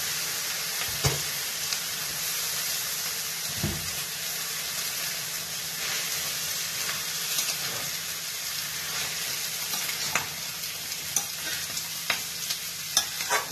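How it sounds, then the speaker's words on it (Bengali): Cabbage and potato sizzle steadily in a pan while being stirred for a home-style Bengali dish, with occasional scraping and clunking strokes over a constant, fairly close frying hiss. "এবার বাঁধাকপিটা দিয়ে দিচ্ছি।"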